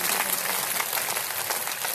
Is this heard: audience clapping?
yes